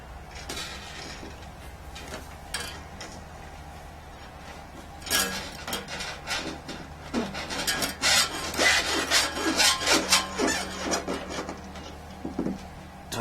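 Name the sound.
harp string being fed through from the back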